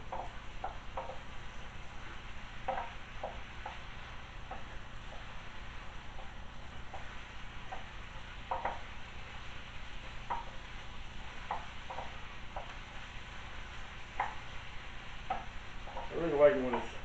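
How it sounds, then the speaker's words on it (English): Ground pork is stirred in a pan for egg rolls: a soft, quiet sizzle runs throughout, broken by repeated light scrapes and taps of a utensil, with a louder scrape near the end. "Stir up our pork."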